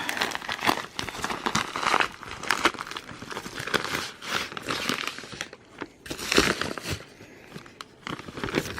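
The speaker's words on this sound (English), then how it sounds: "Tear through bubble wrap." Bubble wrap packing material being torn open and crumpled by hand, a dense, continuous crinkling and crackling that runs nearly the whole time, close and fairly loud, with brief dips between handfuls.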